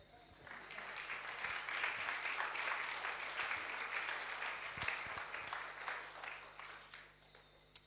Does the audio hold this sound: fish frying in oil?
no